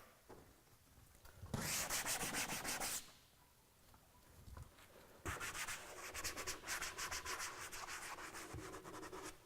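A hand scrubs a car's exterior during a hand wash, producing close, rough rubbing strokes in two bursts separated by a quieter pause, with no talking.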